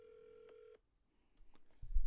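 A phone call placed from a mobile: a steady dial tone cuts off, brief tones and clicks follow, then a low ringback burst begins, all fairly quiet with no talking.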